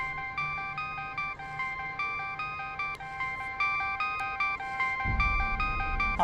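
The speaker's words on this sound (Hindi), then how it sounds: "आदित्य का नंबर है। ये पक्का वही होगा" A mobile phone rings with a repeating electronic melody that runs steadily throughout, with a low rumble of room noise underneath and a thump near the end; no one speaks.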